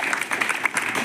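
A crowd at an outdoor political gathering claps in a continuous, even round of applause, moderately loud with dense overlapping hand claps throughout.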